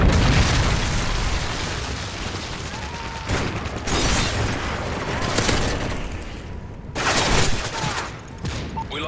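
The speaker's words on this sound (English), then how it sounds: "Friendly Predator missile inbound." In the Modern Warfare 3 video game, a Predator missile strike sets off heavy booming explosions with rumbling, crackling debris, several loud bursts erupting in succession amid ongoing battle noise.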